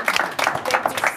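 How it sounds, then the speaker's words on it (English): Brief clapping from an audience at a talk event featuring WNBA Dallas Wings players, a short burst of distinct, fairly close hand claps in loose rhythm. "One more round of applause in the audience"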